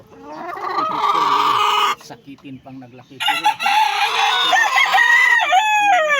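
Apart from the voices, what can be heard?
rooster clucking and crowing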